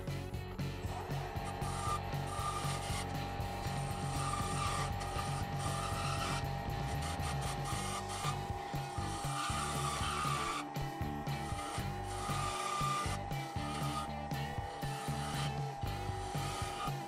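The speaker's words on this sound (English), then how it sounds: "If I do a little sanding on there" A wooden hinge is sanded with fine-grit sandpaper, a continuous scratchy rubbing in repeated back-and-forth strokes, heard over steady background music.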